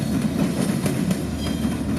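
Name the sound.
CSX freight train X647 with four locomotives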